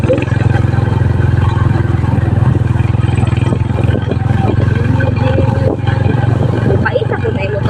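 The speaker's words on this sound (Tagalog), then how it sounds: "Paisa ko na yung motor." A motorcycle engine idles close by with a loud, steady low drone and rapid even pulsing, while people talk over it throughout.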